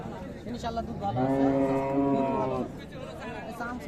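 A Friesian dairy cow moos once, long and loud, at a busy rural cattle market in Raniganj, Dinajpur, with crowd chatter and market noise around it.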